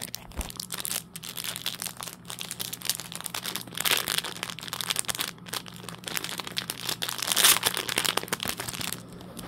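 A plastic bag of candy penguins is torn open, with loud, close crinkling and crackling plastic that runs continuously with brief rustling bursts.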